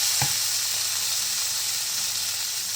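Onion hits hot olive oil in a pan with a brief thump, followed by a loud, steady, close sizzle that continues throughout.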